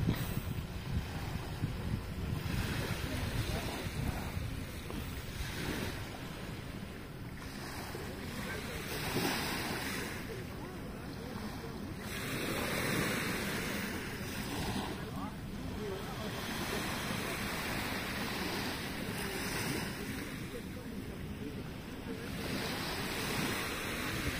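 Ocean waves wash in and recede in slow surges, with wind buffeting the microphone throughout; no clear talk stands out.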